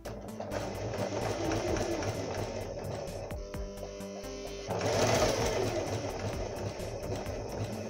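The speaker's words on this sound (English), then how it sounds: "just to check that the machine still works, and hopefully you can see it sews really slow" A Singer sewing machine runs slowly at close range, with a steady mechanical whir and fine repetitive ticking that briefly pauses before the motor surges a bit louder and keeps sewing.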